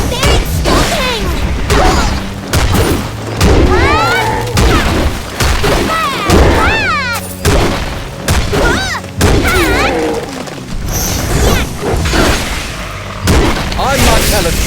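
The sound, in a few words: explosions in the video game ASTRA: Knights of Veda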